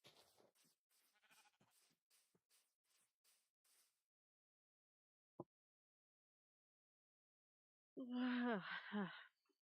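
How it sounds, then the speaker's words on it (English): A person gives a drawn-out, voiced yawn near the end, loud and close, rising then falling in pitch. It follows several seconds of faint, soft rustling and a single sharp click. "Sorry for the yawn"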